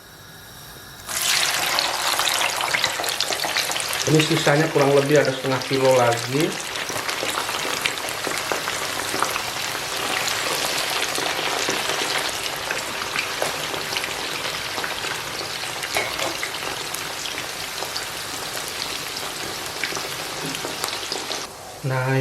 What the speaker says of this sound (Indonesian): Nah, kita goreng lagi ya sisanya.